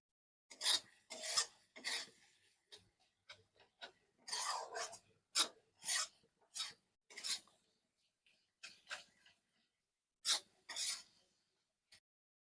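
A spoon scrapes and stirs mustard paste masala for egg curry in a pan, giving quiet, irregular rasping strokes with brief pauses between them and no voices.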